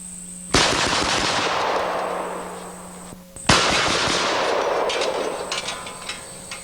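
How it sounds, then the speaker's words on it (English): Two very loud, close rifle shots from a MECTEC jungle gun in .460, about three seconds apart, each a sharp crack followed by a long rolling echo outdoors. "And yeah, it's kind of fun to shoot fast."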